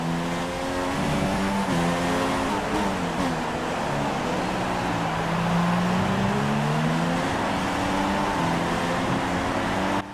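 A Formula One race car engine in the video game F1 2016 screams continuously at the Australian Grand Prix in Melbourne, rising and falling in pitch through gear shifts, with faint tire squeal, loud and close, no voices.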